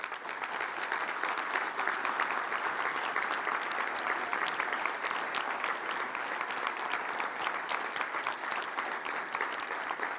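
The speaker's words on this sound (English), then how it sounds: "Give these guys some applause" A room of attendees at a technology marketing event applauds its team captains, a long, sustained burst of crowded clapping with many sharp individual claps, steady and fairly full for about ten seconds.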